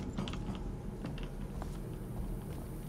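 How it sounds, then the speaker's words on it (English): Airlock mechanism opening in Alien: Isolation, a steady mechanical grinding hum with creaks and clanks, moderately loud and continuous, no voices. "Oh, that's the airlock."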